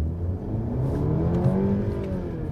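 A Mercedes CLE pulls away under full-throttle kickdown, its engine note rising steadily in pitch as the car accelerates, loud and close from inside the cabin, with no speech.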